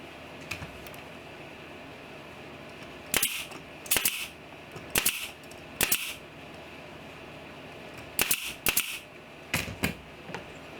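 A nail gun fires into wood for a DIY build, sharp pneumatic shots arriving in quick pairs and short bursts at close range, spaced by pauses over a low steady background hum.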